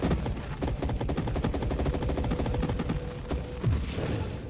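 Rapid bursts of projectile fire in the space shooter game Nova Drift, a dense, continuous stream of crackling shots layered over background game noise without pause.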